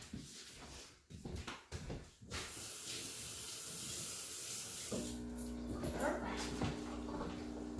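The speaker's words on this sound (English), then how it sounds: "I'm gonna start washing my hands first." Hands are washed under a running kitchen tap, a steady hiss of water that starts after a few seconds of scattered rustling and continues to the end.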